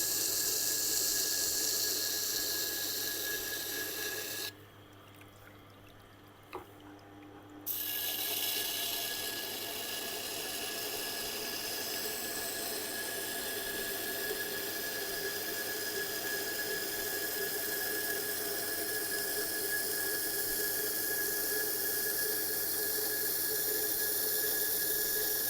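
A kitchen knife is worked over a resin bonded diamond sharpening stone in a continuous, faint, gritty abrasive hiss, broken once by a brief pause before the steady scraping resumes and carries on alone.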